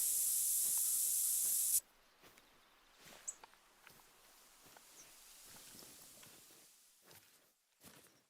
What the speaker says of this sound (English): I'm gonna re-up my spray.